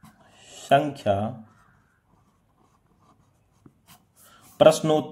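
A pen scratches out an exam answer on paper, its faint scraping heard in short bursts between spoken Hindi.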